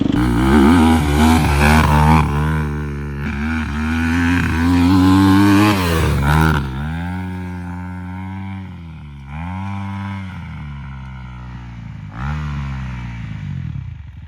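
A Chinese enduro motorcycle fitted with a KTM engine accelerates hard, its engine note sweeping up and down through several loud, close revving bursts before easing off.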